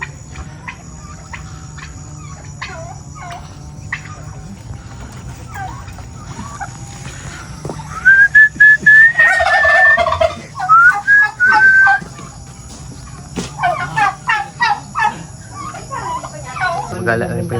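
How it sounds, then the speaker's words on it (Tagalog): Bursts of bird calls from a flock, with gobbling and clucking rising between quieter stretches, loud at times and under outdoor background noise. "Nagala rin pa yung mga pabo."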